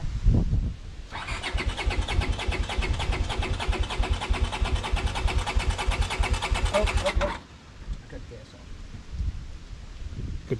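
A carburetor-tuned engine cranks and fires up, a rapid rattling churn lasting about six seconds that cuts off sharply into quieter rumble, with voices talking over it.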